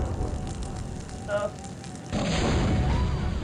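In The Curse of Monkey Island, a loud burst of rumbling explosion noise erupts midway and roars on, preceded by busy fiery crackling and a brief voice.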